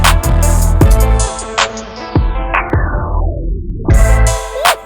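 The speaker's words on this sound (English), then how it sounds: "let's combine the phasing and reverb in here, and then we're going to turn on the boost" A heavily processed, distorted tone through a Slate Digital Storch filter with phaser, reverb and boost sweeps downward with a swirling, phased character and washy reverb tails, punctuated by rhythmic hits before surging back up.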